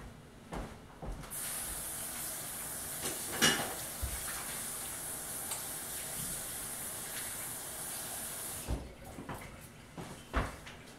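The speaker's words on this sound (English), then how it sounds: "I'm going to wash my hands real quick." Tap water running steadily while hands are washed at a kitchen sink, a continuous close hiss that begins after a second and stops near the end, framed by a few knocks and clatters.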